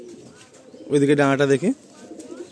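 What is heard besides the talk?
Madrasi pigeons fidgeting restlessly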